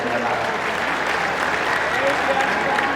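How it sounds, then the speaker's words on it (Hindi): Loud, sustained applause from a large crowd at a religious gathering during a discourse by the head of Bageshwar Dham, steady and dense across the whole moment with voices mixed into the clapping. "ये एक बार ताली जोरदार बजा करके"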